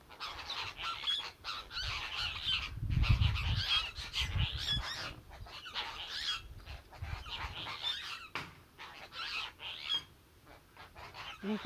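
Flock of geese arriving at a farmyard, honking repeatedly in overlapping bursts at moderate distance, loud and continuous throughout with no talk.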